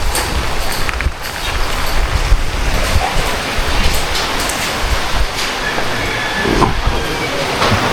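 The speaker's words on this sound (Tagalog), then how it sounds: "Ay, dyan na yung ulan." Steady, dense broadband roar of heavy rain pouring down, constant and loud throughout with no talking.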